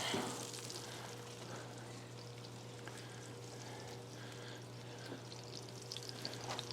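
Apples frying in butter in a pan give a faint, steady sizzle over a low, constant hum, with a few light clinks near the end.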